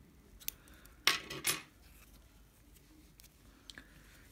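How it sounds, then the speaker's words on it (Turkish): Scissors snipping crochet yarn on a baby vest, two quick close cuts in a quiet room. "Bir zincir çekip ipi artık burada kesiyorum."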